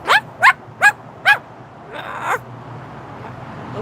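Moluccan cockatoo imitating a barking dog, four sharp evenly spaced barks close to the microphone followed by a rougher, drawn-out squawking call, with no talking.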